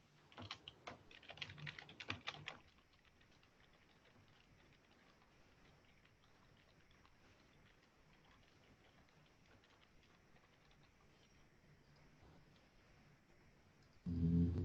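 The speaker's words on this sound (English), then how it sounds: "hand type it into the change password" Rapid keystrokes on a computer keyboard, a dense burst of close typing for the first couple of seconds, then a quiet room with faint scattered clicks before a louder bump at the very end.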